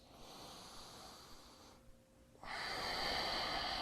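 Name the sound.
breathing during a yoga pose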